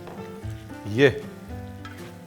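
Spice masala paste drops into a hot pan for a spicy Chettinad-style chicken curry with curry leaves, bursting into a loud sizzle that peaks midway and then settles. A voice speaks briefly.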